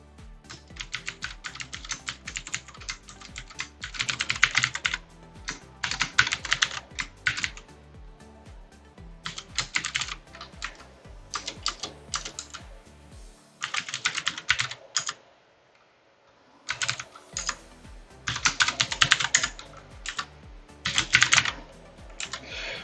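Someone types code into Roblox Studio on a computer keyboard, with rapid bursts of clicking keystrokes separated by short pauses. The typing is close and fairly quiet, and no one speaks.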